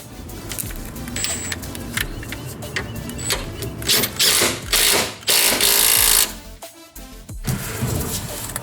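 Coilover top bolts being tightened on a drift Miata with a ratchet wrench, bursts of rapid clicking and whirring mechanical ratcheting with brief pauses and metallic clanks, close and fairly loud.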